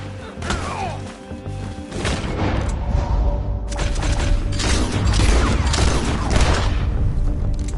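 Gunfire and crashing impacts from a shootout in the video game Red Dead Redemption, a loud, continuous barrage of shots and thuds with a brief dip near the start, sustained throughout.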